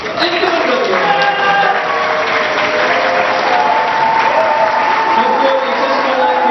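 Loud, sustained applause fills a church hall at the awards of a district choir praise contest, a dense crowd clapping steadily throughout, with voices faintly beneath.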